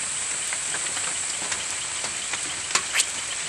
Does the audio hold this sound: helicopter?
no